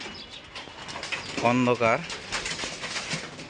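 Pigeons inside a loft cage at dark, a distinct cooing burst in the middle with faint bird noise and a muffled voice around it.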